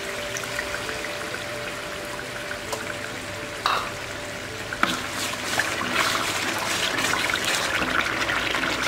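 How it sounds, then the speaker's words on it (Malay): Tamarind water poured into chili sambal cooking in a pan, a steady liquid trickle and sizzle with a few sharp clinks, the frying hiss swelling louder toward the end. "kita masukkan air asam kita"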